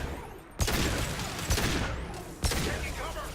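Sci-fi weapons fire in bursts during a Mass Effect 2 combat scene, a dense, loud rattle of gunfire with three heavy impacts spaced about a second apart, under faint voices.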